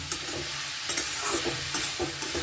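A spoon stirs ash gourd (chalkumra) curry in a hot pan, scraping in repeated strokes over a steady close sizzle of frying.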